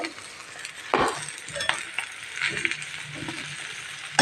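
A spoon scrapes and stirs fenugreek leaf palya in a pan, with soft sizzling and scattered clinks of utensil against metal; close, moderately quiet, with no talking.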